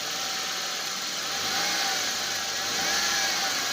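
A Toyota Corolla GLi engine running close by in a steady, even drone that rises slightly in intensity toward the end, heard alone with no talking.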